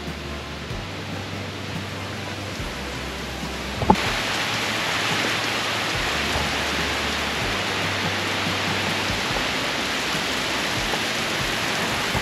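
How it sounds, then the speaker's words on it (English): Steady rain falls outdoors on the Fourth of July, a constant broad hiss that carries on throughout, with one sharp knock near the start and no talk. "It just started raining."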